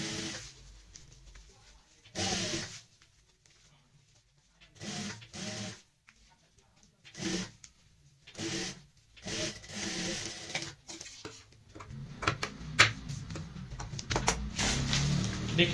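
A sewing machine stitches a waterproof shopping bag lined with a plastic sack, running in short repeated bursts separated by pauses, then a longer steadier run with clattering toward the end.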